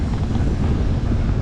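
Wind gusting across a sailboat near Thoddoo island in the Maldives, a steady loud low buffeting roar with no voices.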